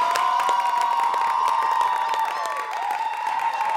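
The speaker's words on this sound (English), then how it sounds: "Please, a round of applause." A studio audience claps and cheers loudly and steadily for a guest being welcomed on a talk show, with whoops rising over dense applause and a sustained tonal hum running underneath.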